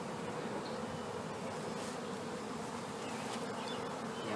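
Honey bees buzz at an opened beehive during a spring hive inspection, a dense, steady hum of many insects close by, faint in level but unbroken, with no talking.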